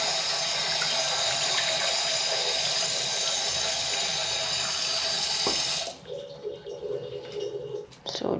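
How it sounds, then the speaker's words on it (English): Water gushes and splashes steadily as it is squeezed out of a wet vacuum's cleaning pad, then cuts off abruptly, leaving a few faint drips and trickles. "So just squeeze out all the water."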